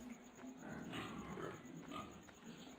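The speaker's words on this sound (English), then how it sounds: "Noisy pigs." Pigs in the video game Farming Simulator 2013 grunt and snort at night, soft low oinks rising and falling over a faint steady background hum.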